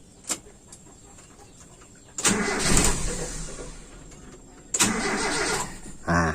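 A motorcycle engine fitted with a slightly larger carburetor pilot jet cranks, with a short blip first, then a longer starter whir that catches, and then another start burst near the end, all heard close in a quiet setting at night.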